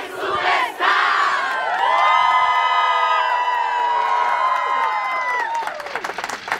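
A television talent show audience on the Armenian program Hay Superstar cheers and shouts together on a countdown cue, a loud sustained crowd roar with screams that swells and then tapers off, with some clapping near the end.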